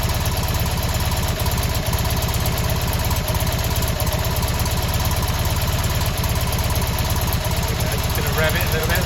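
A classic Fiat 500 engine, just retimed near 28 degrees, ticks over at idle with a steady, lumpy low-pitched chug of evenly spaced pulses, close and continuous for the whole stretch.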